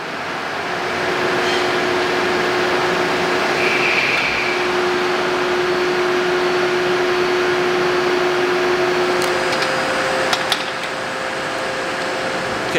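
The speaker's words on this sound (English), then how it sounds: "do a spindle warm-up while I'm replacing the tool." A CNC mill spindle warming up at up to 27,000 RPM, holding a steady high-speed whine with a sustained tonal hum and a slight pitch change partway, with a few light clicks near the end.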